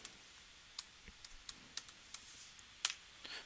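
A swatch name is typed in Photoshop on a computer keyboard: faint, sparse key clicks spaced irregularly over a quiet room hiss, one tap standing out louder near the end.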